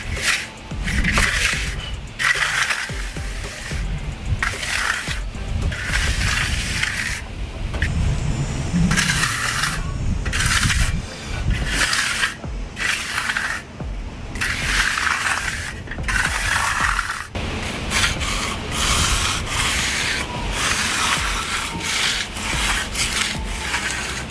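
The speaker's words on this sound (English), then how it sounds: "We're going to use our finishing trowel now." Steel finishing trowel sweeping across wet concrete on a DIY walkway, loud close rasping scrapes in repeated rhythmic strokes with brief gaps between passes.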